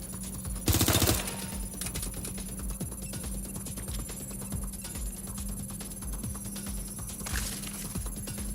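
Rapid bursts of automatic gunfire in the video game Watch Dogs: Legion crackle repeatedly over a steady electronic hum, with a sharp louder burst near the start.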